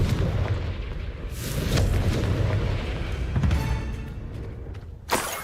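Confringo spell blasts in the Hogwarts Legacy video game, deep booming explosions with rumbling tails over busy game background noise, and a sharp crack near the end.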